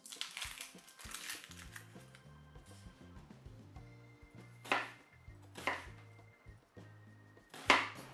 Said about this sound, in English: let's just chop our onions and your garlic